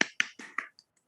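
Hand claps ring out in a quick run of four bright, close, sharp hits, each with a short ringing tail, followed by a fainter fifth tap that trails off into silence.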